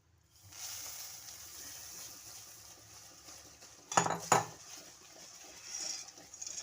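Dry beaten rice puffs and seeds tipped into a metal vessel, a faint steady rustle with two sharp clattering pours near the end, no voices.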